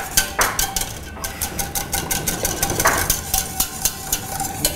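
Two eggs are beaten with a utensil in a gratin dish, a quick, steady run of light clicking strokes close by with no talking.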